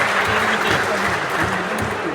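Crowd applause at a hunters' cup semi-final event, a brief burst of steady clapping mixed with a murmur of voices underneath.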